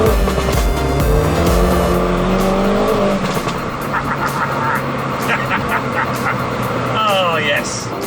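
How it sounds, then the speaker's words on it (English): A powerful sports car engine roars as it accelerates hard, rear tyres squealing and spinning, with the window open, while a person speaks over the noise and a dog barks. "this thing lights the rear tyres up"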